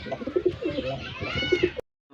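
Soft, close cooing of pigeons kept in a coop, several low rounded coos repeating through a couple of seconds before the sound cuts off abruptly.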